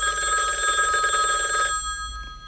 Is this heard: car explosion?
no